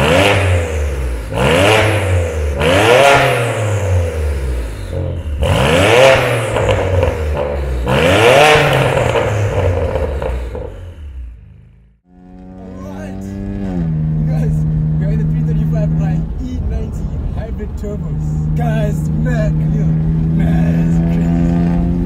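A hybrid-turbo BMW 335i sleeper build pulls hard through several loud, rising revving sweeps, then settles to a steadier engine drone with clatter and people talking over it.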